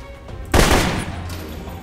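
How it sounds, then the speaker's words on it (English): Burst gunfire in Alpha Protocol: one loud, close burst of rapid shots erupts sharply, then tails off into a fading echo, with no talking. "the burst fire is brutal"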